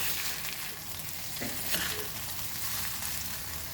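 Lemon rice is stirred in a pan, with a continuous crackling sizzle and a couple of soft spoon scrapes, all at an even level and with no speech.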